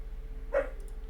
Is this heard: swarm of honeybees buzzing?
no